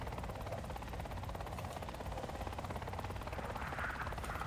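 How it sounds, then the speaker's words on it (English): A helicopter flies in a video game, its rotor drone a steady, loud, continuous whir that holds throughout with little change. "Wait, no, that's another helicopter,"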